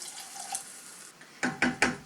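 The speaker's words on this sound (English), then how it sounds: "So I'm going to add some water now." Water poured into a pot while making Carolina Reaper chilli sauce, with three short splashing bursts near the end following quiet drips, close up and with no talk.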